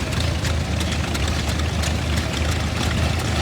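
A 1921 John Deere 816 tractor runs in an equipment parade, its old engine giving a steady low chugging rumble with a rapid pulsing beat, fairly loud and continuous amid outdoor background noise.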